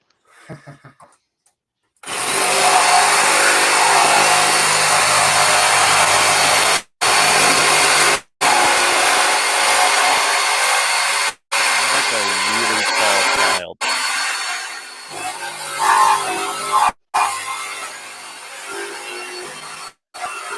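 A two-handed reciprocating saw cuts in long, loud, harsh runs that start abruptly and keep going, broken by a few brief stops before the cutting resumes.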